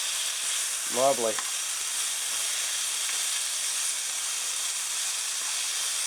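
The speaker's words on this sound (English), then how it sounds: "Mushrooms and the sweet peppers are sauteing up quite nicely" Mushrooms and sweet peppers sauté in a pan with a steady, broadband sizzle and hiss throughout, while a single brief spoken word from a nearby voice breaks in early on.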